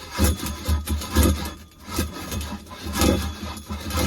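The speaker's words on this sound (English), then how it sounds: "let me go grab a piece of 2-inch copper, and let's go cut our 6 1/2 inch piece" Cutting a piece of 2-inch copper pipe, a steady rasping back-and-forth scrape in rhythmic strokes, loud and close with no voices.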